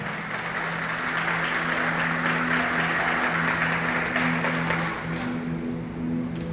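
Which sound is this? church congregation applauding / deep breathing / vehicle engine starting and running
church congregation applauding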